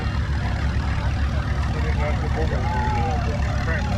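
An Allis-Chalmers Model 60 row crop tractor engine rumbles steadily at a low idle, heavy and continuous, at a threshing show parade, with indistinct voices in the background.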